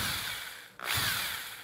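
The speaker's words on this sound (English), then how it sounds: "So I'm gonna put it in here and I'm gonna drill that hole." A power drill fitted with a 9/64 bit drills a hole with a close, steady high whine, pausing briefly midway before spinning up again.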